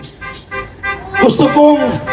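A car horn honks in short blasts nearby at an anti-corruption protest, its tones overlapping with voices and shouting.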